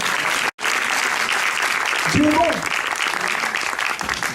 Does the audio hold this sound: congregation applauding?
yes